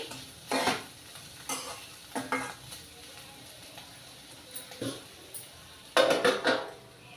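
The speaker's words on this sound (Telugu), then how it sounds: "మధ్య మధ్యలో కలుపుకుంటూ బాగా వేగినంత వరకు వేయించుకోవాలి" Bitter gourd curry fries in a pan, a soft continuous sizzle punctuated by several clattering stirs of a spatula against the pan, the loudest burst near the end, close by with no voices.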